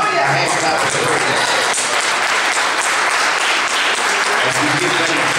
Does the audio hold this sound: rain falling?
no